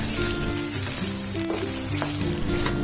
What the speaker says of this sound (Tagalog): ipiprito ko lang ng bahagya ang ating diced luncheon meat